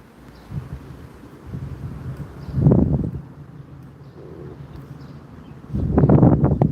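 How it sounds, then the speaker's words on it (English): Gusty wind buffets the microphone outdoors at a fly-fishing spot, a constant low rumble that swells into two stronger gusts, with no speech. "Trying to time my casts between gusts of wind."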